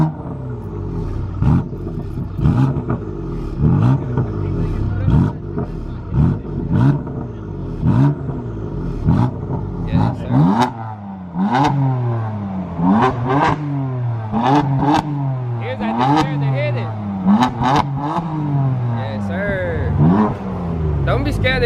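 A Dodge Challenger 392 Scat Pack V8 revs repeatedly up close, with loud rising and falling throttle blips in a steady rhythm, under people talking nearby.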